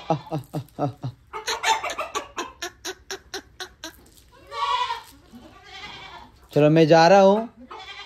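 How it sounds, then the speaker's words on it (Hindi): Goats bleat on a village farm, with chickens among the livestock. Several quick stuttering bleats come early and a long, loud bleat comes near the end, mixed with someone talking nearby. "देखो बकरी ने बाय बोला, बाय।"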